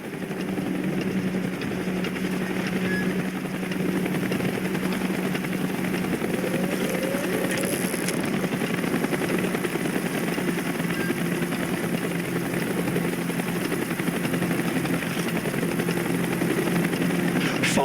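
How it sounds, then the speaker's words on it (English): Helicopter arriving in the video game Black Ops: a steady, moderately loud rotor and engine drone that holds unbroken for the whole stretch, with no talk over it. "Chopper's inbound!"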